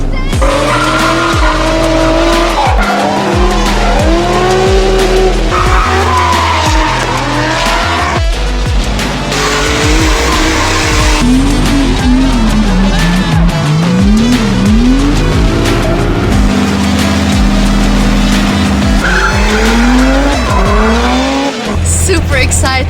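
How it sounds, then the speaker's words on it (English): Cars drift on a track with loud, sustained tire squeal and revving engines that rise and fall, close and continuous. "Let's go drifting."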